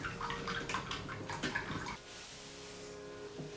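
Hot water splashes and drains from a Timemore C3 espresso brewer into a vessel, steady and close for about two seconds, then drops to a quieter trickle.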